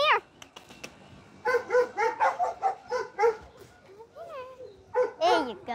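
A large dog barks and yips repeatedly in a quick, excited series, close and loud, with whimpering, yelping sounds between bursts and no talking.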